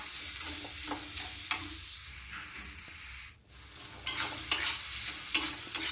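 Chicken masala with turmeric, chilli, cumin and coriander powders being stir-fried, a close steady sizzle broken by scraping and a few sharp spoon clinks against the pan, with a brief pause midway and no talking.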